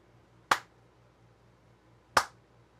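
Two sharp, isolated finger snaps about a second and a half apart, close and crisp against a quiet background with a low hum, used to trigger loud sound detection on a Circuit Playground board.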